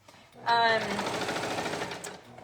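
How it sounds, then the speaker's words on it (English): A serger sewing machine stitches elastic, a fast steady mechanical whir that starts abruptly and runs continuously close by while someone talks over it. "You want to make sure that your blade of your serger is not cutting your elastic."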